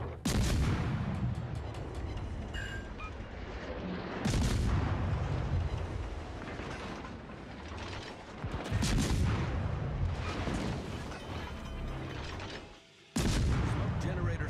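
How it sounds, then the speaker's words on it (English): Heavy artillery from the battleship Massachusetts in a naval combat video game booms loudly several times, each blast a broad crash that rolls into mechanical rumble and clatter, with game voice callouts in between. "Can we get a fire on the Massachusetts?"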